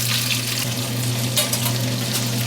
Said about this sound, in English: cold meat in hot oil, a lot of splatter